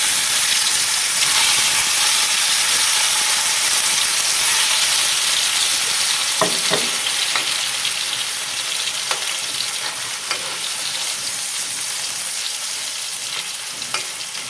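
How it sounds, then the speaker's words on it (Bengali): Tomatoes dropped into hot oil set off a loud, dense frying hiss that holds steadily and slowly fades. Scattered spatters and crackles come through, along with a few stirring knocks. No voices. "এবার আমি ওই তেলের মধ্যে টমেটোগুলো দিয়ে দিলাম।"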